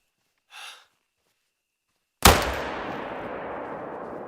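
A single loud rifle shot in a video game cracks out after a short quiet pause and trails off in a long, fading echo, preceded by a brief faint breathy sound.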